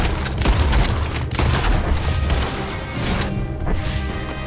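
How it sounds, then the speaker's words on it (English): Rapid bursts of gunfire and crashing impacts in the video game Red Dead Redemption 2, loud and dense throughout with overlapping booms. "I don't know why they started shooting."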